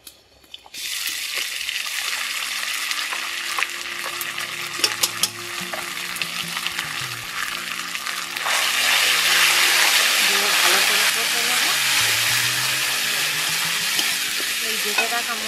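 Bay leaf, green and dried chillies and ground spice paste sizzle loudly in a hot pan, a steady close frying hiss with stirring that grows fiercer partway through as the paste hits the oil.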